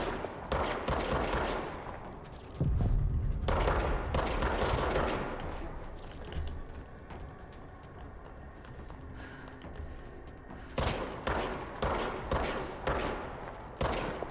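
Rapid automatic gunfire from a weapon in the video game Control rattles out in loud, sustained bursts. A long volley early on gives way to quieter stretches, then a run of sharp, evenly spaced shots near the end.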